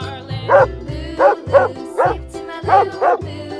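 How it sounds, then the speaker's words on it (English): A dog barks in a quick series of about six sharp, evenly spaced barks, loud and close, with no other sounds around them. "Dog."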